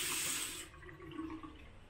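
Bathroom tap in a Hua Hin hotel room running with a strong gush of water, loud at first then quickly dropping to a softer trickle and splashing in the basin.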